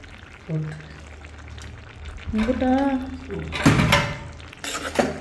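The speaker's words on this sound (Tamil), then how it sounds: "நல்லா இப்படி கிண்டி விட்டு செய்யுங்க" Chilli chicken stirred in a cooking pot with a spoon, giving a few scraping, clattering bursts and a soft sizzle beneath a person talking nearby.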